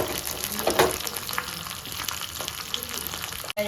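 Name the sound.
red chillies and curry leaves frying in oil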